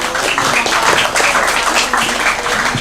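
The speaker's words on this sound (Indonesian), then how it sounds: "tepuk tangannya teman-teman" An audience at a discussion and screening event claps steadily and fairly close, the applause dense and continuous for the whole few seconds.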